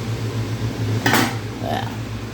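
A lid clatters onto a cooking pot of metshado in a home kitchen, one short bright metallic clank with a faint ring after it, over a steady low hum and quiet background talk.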